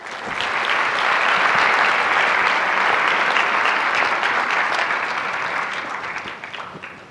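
An audience at a literacy academy keynote breaks into sustained, even applause that swells quickly, holds steady for several seconds, then gradually tapers off, with no voices over it.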